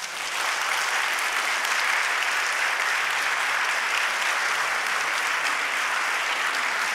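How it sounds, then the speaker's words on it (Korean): A church congregation applauds steadily to welcome visiting guests, a dense, even wash of clapping that holds at a constant level from start to finish with no voices over it. "우리 박수로 환영하십시다"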